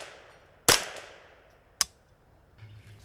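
A Kidd 10/22 rifle chambered in .22LR fires at long range, giving one sharp, close crack followed about a second later by a second, lighter report, both standing alone over quiet background.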